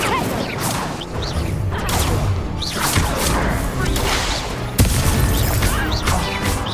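Repeated Incendio fire spells cast in Hogwarts Legacy, bursting whooshes and crackling blasts in a dense, continuous game mix, with a sharper hit near the end.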